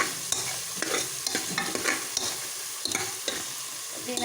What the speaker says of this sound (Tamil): இப்படி நல்லா வதக்கி எடுத்துக்கோங்க